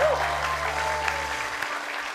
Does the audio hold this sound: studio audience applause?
yes